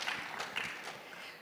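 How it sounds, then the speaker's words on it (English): Audience applause at a book conversation event, a steady spread of many hands clapping that holds evenly at moderate loudness through the short stretch, with no voices over it. "a round of applause for that"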